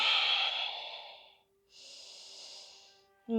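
Two slow, airy breaths, the first long and loud, the second softer after a short pause, close and alone without talking.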